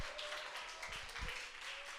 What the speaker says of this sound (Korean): 뜨거운 박수로 우리 환영의 박수 올려드리겠습니다.